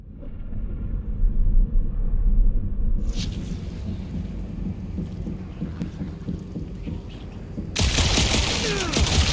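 An element gun fires during combat in the video game Guardians of the Galaxy, producing a loud, sustained rumbling blast that swells, holds and then breaks into a harsh, bright roar near the end.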